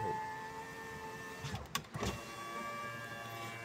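A Honda Brio power window motor runs steadily at low volume during a switch test, with a faint hum and a brief clunk and rattle partway through as the glass moves.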